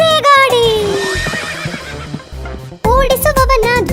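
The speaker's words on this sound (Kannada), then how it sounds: "ಗಾಡಿಗೆ ಕಟ್ಟಿದ ಕುದುರೆ ಎಳೆದರೆ ದಡಬಡ ಸದ್ದನು ಮಾಡೋ ಗಾಡಿ" A cartoon horse pulling a cart lets out a loud, descending neigh. Clip-clop hooves and a jaunty children's song follow, and a second whinny comes near the end.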